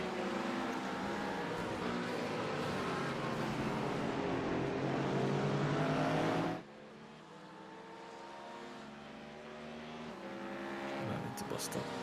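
A Porsche 918 race car in iRacing drones past with a loud, steady engine roar in a Daytona endurance race, then drops sharply to a lower engine hum while people talk over it.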